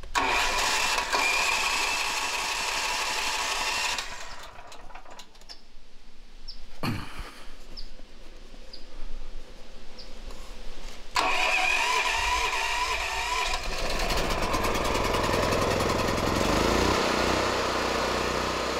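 An engine cranks and fires up, with loud running engine noise at the start, a quieter stretch broken by a sharp clunk, then the engine roaring back steadily and close until the end.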